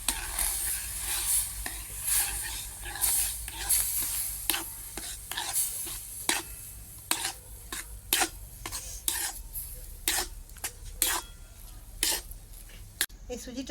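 Semolina cooking in milk in a pan, stirred with a utensil that scrapes in irregular rhythmic strokes, with faint sizzling underneath and a voice talking at times.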